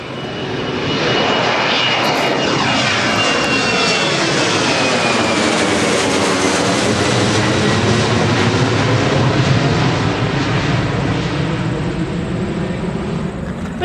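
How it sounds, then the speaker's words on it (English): An airplane passes overhead in an open field, its engine roar rising and sweeping in a steady, loud drone for the whole stretch, with clear Doppler-like shifting tones and no talk. "here comes the airplane"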